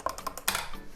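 A spoon stirring cream into hot chocolate in a mug, a quick run of light clinks and scrapes, close and alone.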